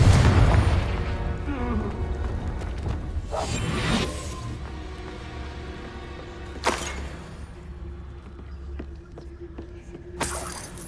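Confringo explosive spell blasts in Hogwarts Legacy: a loud burst at the start with rumbling low boom, followed by sharp whooshing impacts around the middle and near the end over steady game ambience.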